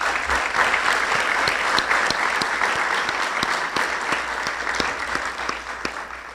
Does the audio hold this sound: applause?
yes